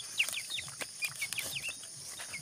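Chickens at a backyard pen where piglets are also kept, with short repeated high clucks and chirps scattered close by over a faint background hum.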